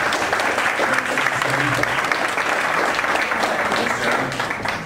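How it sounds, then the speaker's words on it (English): An audience applauds at the end of a talk, a dense, steady round of clapping lasting about five seconds that tapers off at the close, with faint voices mixed in. "And let's give one more round of applause for Derek Freund."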